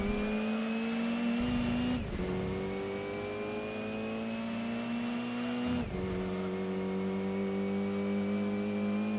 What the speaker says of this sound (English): and those rally cars sound insane